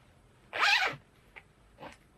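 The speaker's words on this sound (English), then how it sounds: "There is now a zip on the bag." A zipper on a handmade upcycled bag is pulled in one long, close rasp, followed by two short faint zip tugs in a quiet room.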